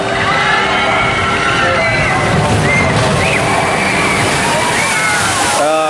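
Water from the Snake River Falls boat ride at Cedar Point crashes and sloshes in a steady, loud wash, with crowd chatter and park noise mixed in throughout.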